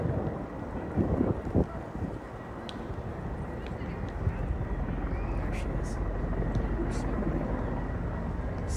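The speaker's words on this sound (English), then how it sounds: "the helicopter is hanging out up here for some reason" A helicopter thrums steadily overhead in Prospect Park, Brooklyn, mixed with wind noise and occasional rustling nearby.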